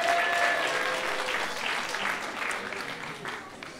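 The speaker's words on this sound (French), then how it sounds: "On peut l'applaudir très fort" An audience applauds steadily for a co-producer at a live French show, a dense wash of clapping that fades slightly toward the end.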